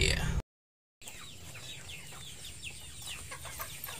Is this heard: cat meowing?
no